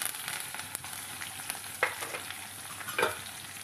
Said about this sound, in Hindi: राई के साथ साथ ही मैं यहाँ पे ये मिर्चियाँ डाल दूँगी और इसके बाद ये प्याज और कड़ी पत्ता एक साथ डाल देंगे